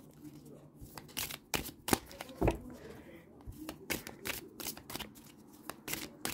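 Tarot cards being shuffled and drawn by hand, a string of soft, quick riffling and slapping sounds up close, with some quiet talking.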